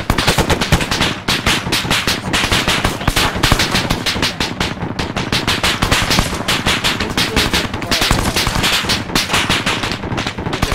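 A .50 calibre machine gun firing in a military shooter game, long rapid bursts of loud, sharp automatic shots in a steady rhythm that barely pauses across the whole stretch.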